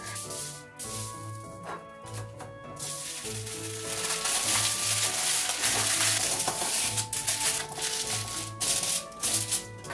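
Two layers of aluminum foil are crinkled and pressed under a bottomless 16 cm round cake pan for a Japanese cheesecake. The crackling, rustling foil sounds continuous and close over faint background music, with no talking.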